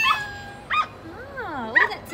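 A small electronic toy dog sound module at a Build-A-Bear Workshop gives short yips and whimpering, wavering whines, thin and tinny, in a few separate bursts close by.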